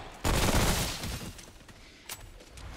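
Gunfire in Remnant From the Ashes, a heavy burst of rapid shots with a loud boom that fades into rumble, then a single sharper crack, close and fairly strong.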